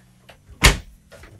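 A cupboard door for cleaning products and garbage in the galley of an Azimut Atlantis 58 yacht bangs shut once, a single close thud set between soft faint clicks of handling.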